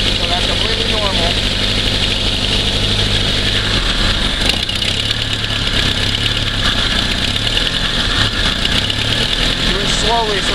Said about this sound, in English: with the vehicle running, the vehicle is gonna die